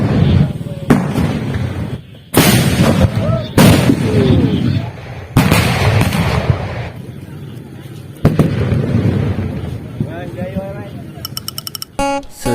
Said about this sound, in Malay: Sebenarnya aktiviti permainan meriam ni ada pada setiap tahun pada malam raya